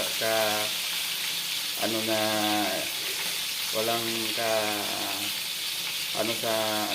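Second batch of tilapia frying in a pan, steady sizzling and crackle heard close while a person talks intermittently over it.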